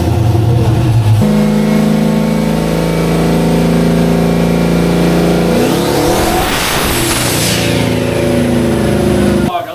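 A powerful turbocharged LS V8 engine in a Mustang with a single VS Racing turbo revs hard and loud, climbing in pitch to boost cut, then dropping off, with whining turbo tones.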